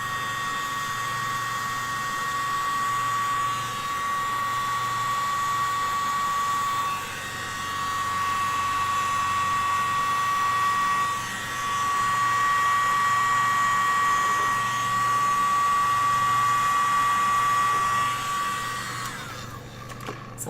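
A small blow dryer runs continuously at close range, a steady loud whir with a high tonal whine, as it pushes paint and cell activator across a surface.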